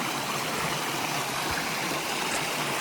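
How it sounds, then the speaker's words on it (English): A well-flowing stream at a water crossing on the Appalachian Trail, a steady close rush and gurgle of water that fills the whole clip with no voices. "We're coming across another stream. This one's flowing really well too."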